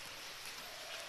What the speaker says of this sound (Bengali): বাইরে রান্না করা যাবে না, বাইরে বৃষ্টি।